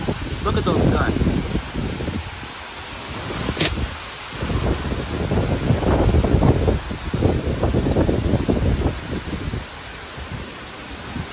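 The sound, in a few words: strong wind gusts during a nighttime downburst storm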